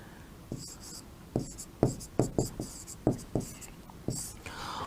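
Handwriting on paper while writing out Hindi verse notes: a series of about ten short, crisp pen strokes and taps at close range in an irregular rhythm, over a faint background hiss.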